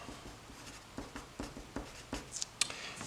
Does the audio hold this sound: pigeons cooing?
no